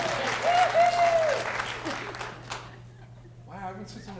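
A workplace employee-update meeting audience in a room of police officers gives brief applause that starts loud and quickly fades as a voice talks over it.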